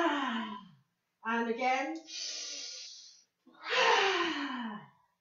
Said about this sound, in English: Breathing fire again, big breath in and out.